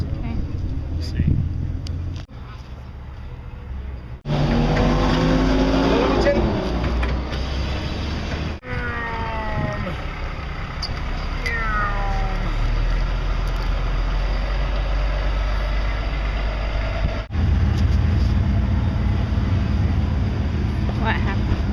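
A broken-down truck jacked up at the back with its wheels spinning to check the drive shaft, giving a steady mechanical whir and low engine drone that rises and settles while people talk nearby.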